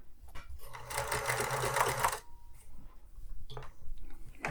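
A Pfaff 360 sewing machine, a thrift store find with an old needle, runs at full speed in a single steady, humming burst lasting just over a second, with quieter mechanical ticking and handling sounds around it.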